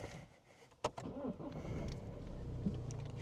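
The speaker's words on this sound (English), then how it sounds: "If I start the car up now" A car engine cranks with a sharp click and catches, then settles into a low, steady idle heard from close by in a workshop setting.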